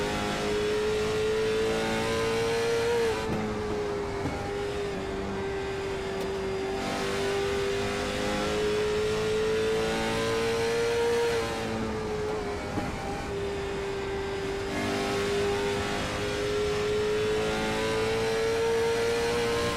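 Race car lapping the oval at Island Pond, Vermont during the Sunshine Derby, its engine a loud steady drone with pitch rising and falling as it accelerates down straights and lifts into turns, no voices.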